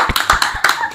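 Several quick hand claps in a short, uneven burst at a child's birthday celebration, close and fairly loud with no talk over them.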